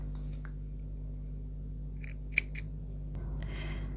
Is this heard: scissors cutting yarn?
yes